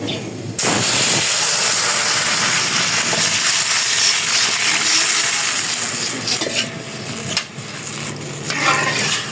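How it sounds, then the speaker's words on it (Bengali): Mustard seeds sputter and hiss in hot oil in a kadai for tempering dal, a loud steady steaming sizzle with crackles running throughout, close up. "এখন এই যে ডালটা সম্বার দেব।"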